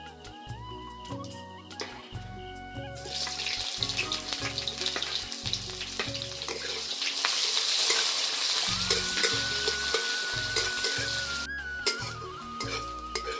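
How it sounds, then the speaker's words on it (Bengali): Chopped onion sizzling in hot oil with cumin seeds, a loud continuous frying hiss that swells midway, with scraping stirs and a steady low background music bed, no speech. "জিরে থেকে সুন্দর একটা গন্ধ বেরোলে আমি এখানে পেঁয়াজ কুচিটা দিয়ে দেব"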